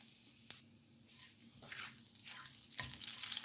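Cumin seeds and a pinch of hing (asafoetida) sizzle in hot mustard oil in a pan. A soft hiss swells in waves and grows louder toward the end, with a brief clink near the start.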